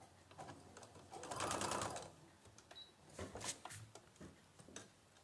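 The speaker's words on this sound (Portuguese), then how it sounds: "Vamos lá para a máquina de costura." A home sewing machine stitches patchwork fabric in short bursts, its faint motor hum and rapid needle clatter rising and falling between pauses, with light clicks and handling sounds.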